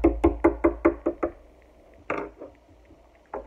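A small plastic LEGO figure topples on a hard surface, giving a quick run of about seven sharp, close knocks that fade, then two more isolated taps after a pause.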